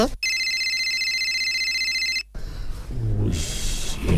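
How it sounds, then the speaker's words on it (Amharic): A telephone rings loud and close with a steady electronic tone for about two seconds, then stops abruptly as people begin talking in a drama scene. "ስልክ ነው።"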